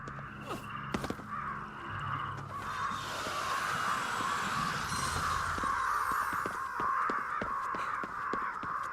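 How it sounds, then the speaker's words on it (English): Crows caw repeatedly in the video game Ghostwire: Tokyo, a steady flock of harsh calls at moderate distance over a constant ambient background, fairly faint. "I was hoping that I would have cleared out the frigging crows, but no."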